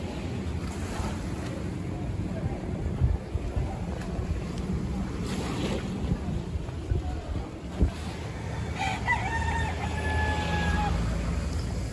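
Chickens and a rooster at Cane Garden Bay in the Virgin Islands, with crowing heard over a steady wash of surf and boat noise in a windy seaside setting.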